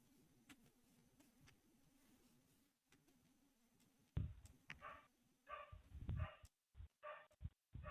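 A pet dog barks in a house, several loud, close barks in an uneven burst near the end after a stretch of faint background hum.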